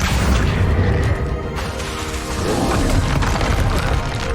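A fiery Incendio spell blasts in Hogwarts Legacy, a loud sustained roaring burst of flame and booming impact that fills the whole moment without any speech.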